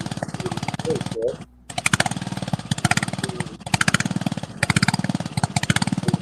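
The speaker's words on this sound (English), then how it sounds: "They're basically just a lawnmower engine," A 1/8 scale train runs on a small lawnmower-type engine of a couple horsepower, putting out a loud, rapid, rhythmic chugging close by that continues with a brief dip, while someone talks over it.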